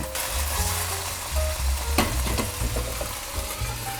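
Steady, loud sizzling of raw milkfish frying in a pan, with a few sharper crackles and spatters partway through; no voices.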